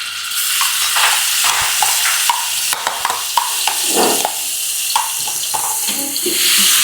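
Spice paste stir-fried in a wok on high heat for an Indonesian green-chili and smoked-meat dish, a steady loud sizzle broken by repeated scraping and clacking strokes of a spatula against the pan, with no talking.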